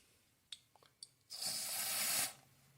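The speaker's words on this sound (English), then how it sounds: "when I spray it" Carb cleaner hisses from an aerosol can in one steady burst of about a second near the intake of a 2000 Toyota Celica GTS engine with a high idle, close by, after a few faint clicks.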